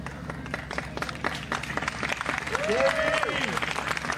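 Applause from a folk festival crowd for a performer, scattered and moderate, mixed with stage murmur and a brief tonal sound toward the end.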